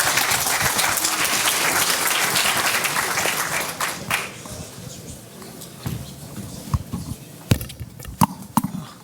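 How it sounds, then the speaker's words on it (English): A conference audience at a cloud computing meetup in London applauds a speaker, dense clapping that holds steady for about four seconds and then thins into scattered, separate claps. "give a big round of applause to Pradeep."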